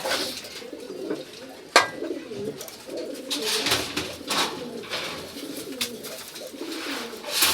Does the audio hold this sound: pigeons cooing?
yes